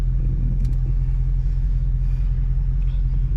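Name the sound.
widebody Dodge Charger Scat Pack engine during launch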